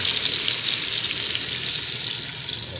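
Potatoes fry in a pan for chicken adobo, a loud close hiss of sizzling oil with stirring noise underneath, steady throughout and fading slightly toward the end.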